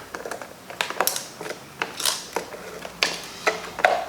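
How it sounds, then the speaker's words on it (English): Screw being worked out of a plastic skeleton skull, giving a run of small, close clicking and ratcheting ticks with brief gaps, fairly quiet and with no talk. "So all we need to do is get this screw out here,"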